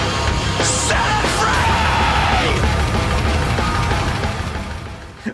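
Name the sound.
high-pitched scream-like sound at the end of a song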